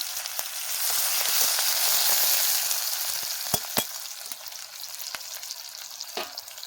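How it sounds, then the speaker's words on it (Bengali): Onions and green chillies sizzle loudly in hot oil in a heated kadai. The frying hiss is steady and close, and a few sharp crackles and stirring clicks come through near the end. "কড়া গরম হয়ে গেছে, তেলটা দিয়ে দেবো। দিয়ে দেবো পেঁয়াজ আর লঙ্কা, কাঁচা লঙ্কা দিয়ে দিয়েছি।"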